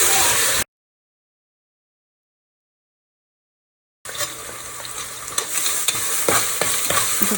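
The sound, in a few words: stirring and frying onion with coriander and mint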